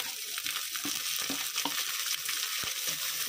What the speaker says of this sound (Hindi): हरी मिर्च डाल देंगे